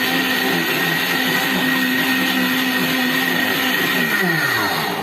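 A 1,500-watt blender powered by a solar portable generator whirs loudly and steadily, its motor drone constant and close throughout with no one talking.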